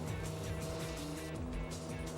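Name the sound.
car engine in the video game Speed Devils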